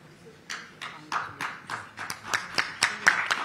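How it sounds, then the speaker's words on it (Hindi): Scattered audience clapping at an energy summit in Maharashtra, a series of separate sharp claps that come faster and louder toward the end, fairly faint, with some speech faintly underneath. "तालियों के साथ स्वागत कीजिए"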